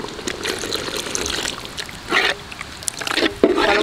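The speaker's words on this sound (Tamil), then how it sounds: "இப்போ நம்ம ஆட்டி வச்சுருக்க தண்ணி ஊற்றிக்கலாங்க" Stone-rinse masala water trickles and splashes in short, uneven bursts as it is poured into a simmering quail egg gravy, close up and fairly quiet.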